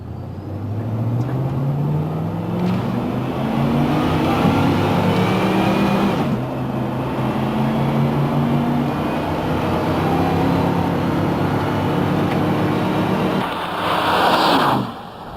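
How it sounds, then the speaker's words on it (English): A Ford truck with a rebuilt E4OD heavy-duty transmission accelerates at three-quarter throttle, its engine note climbing steadily, dropping at each upshift, then climbing again through two clear gear changes, loud and close. "Let's try some upshifts at 3/4 throttle and feel the shifts."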